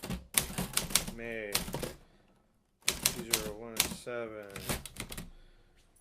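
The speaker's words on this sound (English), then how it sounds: "this is a typing test on the Remington" Keys strike on a Remington Quiet-Riter typewriter in sharp bursts of clacks, broken by a short pause, while someone talks close by over the typing.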